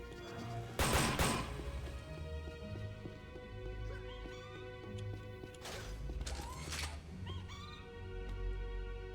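Gunfire in the first-person shooter Unreal Gold with the Evolution Mod: a few sharp, crackling shots burst out, one near the start and two close together later. They stand over a low droning game soundtrack with a faint eerie ambience, all fairly quiet.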